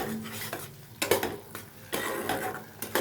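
A spoon scrapes and stirs a paste of ground hyacinth beans with turmeric and sugar in an iron wok, with repeated close metallic knocks against the pan over a faint sizzle of frying.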